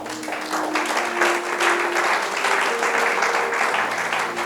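Church congregation clapping in dense, steady applause, loud and close throughout, with a faint tone sustained underneath.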